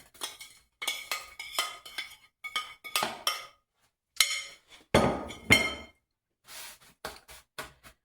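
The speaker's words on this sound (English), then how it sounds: "Now I'm going to take my pan, dump that in there." Magic bar mixture of chocolate, coconut and nuts tipped into a baking pan, heard as a series of close clinks, scrapes and knocks of utensils against the pan, irregular and separated by short pauses.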